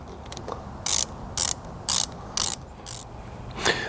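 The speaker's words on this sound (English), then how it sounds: "I hit them with the ratchet until I feel them just starting to tighten up" A hand ratchet snugs down bolts on a Ford 7.3 IDI turbo diesel short block, giving five or six short, loud clicking bursts spaced about half a second apart, with no talking over them.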